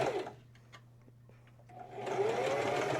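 A sewing machine stitches down a fabric strip folded about a third of the way, quiet handling and light taps at first, then a sustained close mechanical whir building up and running to the end.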